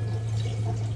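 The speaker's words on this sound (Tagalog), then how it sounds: "Dagdagan natin ang tubig kasi puntik na naman." Water is poured into a cooking pot of simmering broth while making bananacue, giving a steady close splashing and dripping trickle over a low constant hum for about a second.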